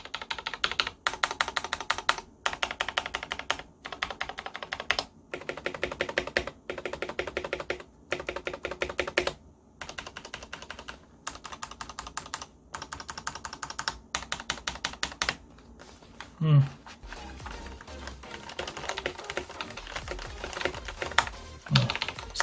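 Keys on a Thinkway Toche mechanical keyboard with red switches and thick sound-dampening foam are pressed during a stabilizer test, a close run of bursts of rapid clacking typing separated by brief pauses.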